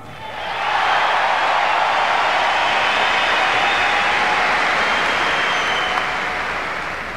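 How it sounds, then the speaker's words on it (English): A hockey arena crowd in Buffalo gives a sustained ovation at a jersey retirement, loud continuous applause swelling quickly and holding steady. "I would like to thank the crowd here for the beautiful ovation."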